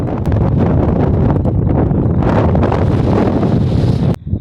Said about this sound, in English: Very windy, but I'm about 10 steps away from Mount Terevaka.